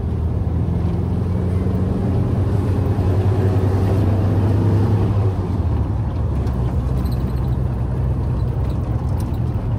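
A VW Kombi engine drones loudly and steadily while driving at high revs, a continuous low rumble that rises slightly in pitch midway and then settles; heard from inside, no voices.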